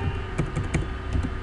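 Quiet, rapid clicks of keys sound on a computer keyboard while C# code for an ASP.NET program is typed, a brief soft patter over a steady background hum, with no voice.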